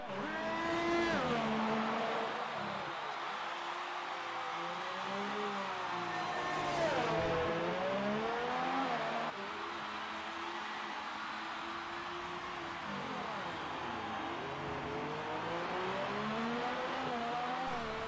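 Sim race cars on the Azerbaijan GP street circuit scream past, engines rising and falling through gear changes and hard braking, a loud, continuous multi-car roar with no talk over it.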